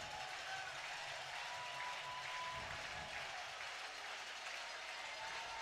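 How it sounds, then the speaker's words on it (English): A Mississippi State baseball crowd reacts in the stands, a distant, continuous wash of cheering and applause that stays faint and even throughout. "Listen to that State crowd react."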